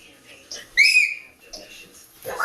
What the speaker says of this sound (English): Sounds like a whistle